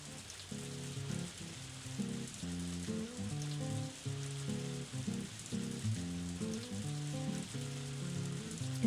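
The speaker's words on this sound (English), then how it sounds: "hard to hear because of the rain though" Steady rain falling in the Story of Seasons: A Wonderful Life farming game, a constant hiss running through the whole stretch beneath a prominent melodic music track.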